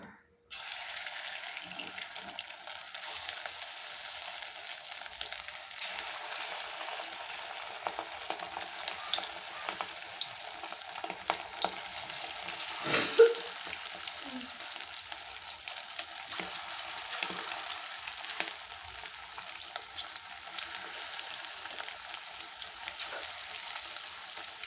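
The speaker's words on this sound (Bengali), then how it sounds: "এখন চিকেনগুলো আমি ভেজে নেব।" Chicken pieces fry in hot white cooking oil in a kadai, a steady loud sizzle and crackle running throughout with occasional stirring clatter, close up and without talk.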